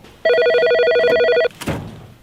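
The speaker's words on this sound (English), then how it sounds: "That phone's ringing for you." A telephone bell rings loudly and steadily for over a second in an abandoned factory, then stops, followed by a brief clatter as someone picks up.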